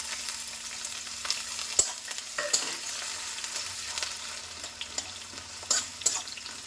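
Chicken frying in a pan sizzles steadily at close range, broken by several sharp scrapes and clatters as it is stirred.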